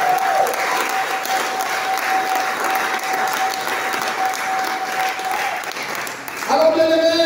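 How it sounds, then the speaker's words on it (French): Church congregation bursting into loud, sustained applause and cheering in a worship hall, a steady wash of clapping that swells near the end, with voices and tones rising over it. "Donc les acclamations à ce surnaturel."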